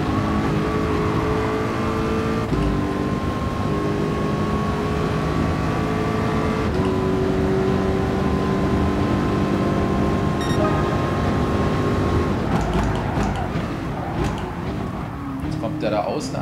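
Racing car engines in GT Sport at the Interlagos circuit during an online race, sustained droning engine tones that hold and shift pitch through gear changes, with a player talking throughout.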